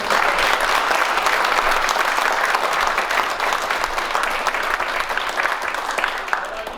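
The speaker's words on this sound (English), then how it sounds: "Let's give a round of applause for these" Banquet audience applauding service members who have stood up, a dense, steady wash of clapping that holds loud from start to finish and eases off slightly near the end.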